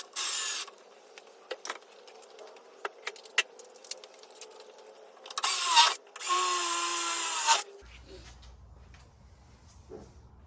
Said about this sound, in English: I drilled those two holes.